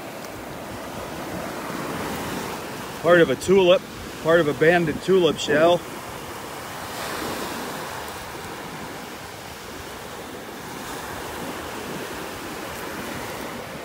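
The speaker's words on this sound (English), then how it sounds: "Really windy morning." Steady gusting wind buffets the microphone over a continuous wash of surf breaking on a beach in North Naples, Florida, on a windy morning, with a person briefly talking partway through.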